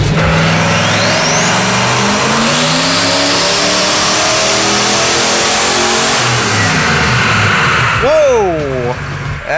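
A turbocharged 302 cubic inch engine roars loudly on a dyno, its pitch climbing steadily for several seconds before dropping off, then a few quick wavering revs at the end.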